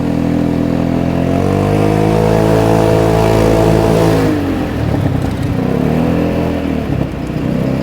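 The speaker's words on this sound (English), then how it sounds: "I'm riding, guys, a Vespa 250 GTS Black Edition, and it's a 2008." A 2008 Vespa 250 GTS Black Edition scooter engine drones loudly and steadily while riding along local lanes, a close, continuous hum whose pitch dips and shifts midway as the throttle changes, with wind rumble and no talking.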